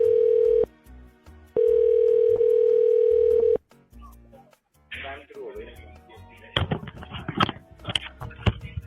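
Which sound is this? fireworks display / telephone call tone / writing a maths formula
telephone call tone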